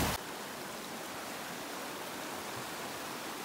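Fast-running high mountain stream on a backpacking trail, a steady close rush of water filling the scene with broadband noise, no voices.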